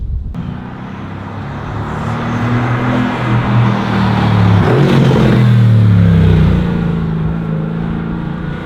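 A car engine running with its exhaust removed, heard from inside the car: a loud, steady low rumble that swells toward the middle and holds, with no talking.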